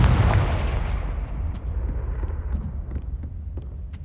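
A Confringo fire spell blasts in Hogwarts Legacy, a single loud booming burst at the start that rolls off into a long decaying rumble, with faint scattered clicks and ticks trailing after.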